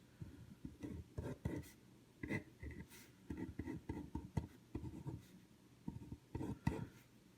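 A pen scratches out a chemical equation in quiet, intermittent strokes, short scribbles separated by brief pauses, faint and close with no talking.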